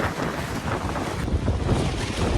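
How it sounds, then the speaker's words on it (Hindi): A strong storm wind roars steadily and loudly against the microphone while a tarpaulin shelter flaps in the gusts, a dense continuous rush with no voices. "देख कितना तेज तूफान आ रहा है, और पानी भी, और त्रिपाल ऐसे उड़ रही है कि फट ना जाए।"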